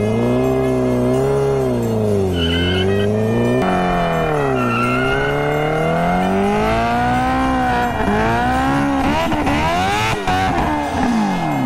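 A motorcycle burnout, with the engine revving hard in rising and falling sweeps and the tyres squealing loud and close, building into harsher bursts toward the end.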